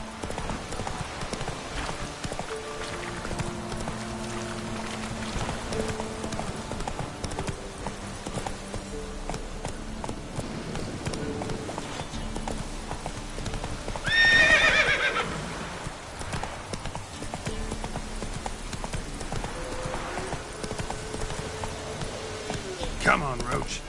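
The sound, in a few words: horse Roach galloping, hooves clip-clopping, from video game Witcher 3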